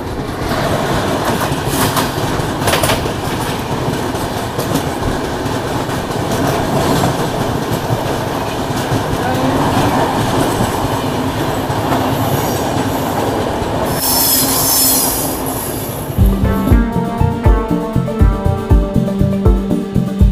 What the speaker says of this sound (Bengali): এদিক থেকে ক্রস করবে ট্রেনটা।